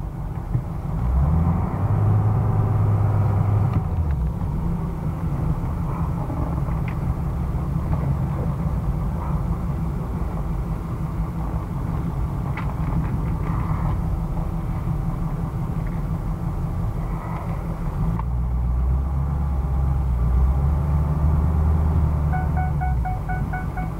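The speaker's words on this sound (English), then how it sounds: "Much road noise on this tread design. Real quiet. Not a lot of rumbling." Steady tire and road roar fills the cab of a lifted 2006 Ford F-250 Lariat long-wheelbase 4x4 with a 6.0 diesel, a constant low rumble running unbroken throughout with no talk.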